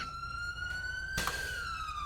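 A police car siren in GTA V wails in a slow rising and falling tone with bright harmonics, fairly close and steady, under a faint background hum and with no talking.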